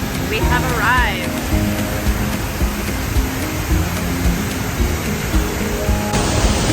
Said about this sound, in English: Just a few more steps and we will arrive at the base of the waterfall.